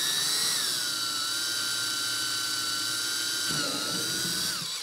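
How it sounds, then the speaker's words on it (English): Continuous high-pitched whine of a power drill slowly drilling a pilot hole in plastic at steady speed, close by, with a slight pitch dip near the end as it winds down. "Now we're going to drill a pilot hole."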